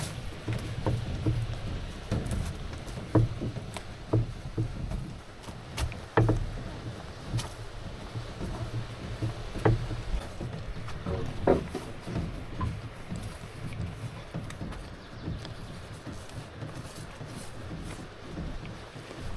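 A canoe is paddled across a lake in Algonquin, rhythmic paddle strokes and drips repeating every second or two, close and moderately loud, with light wind buffeting and no talk.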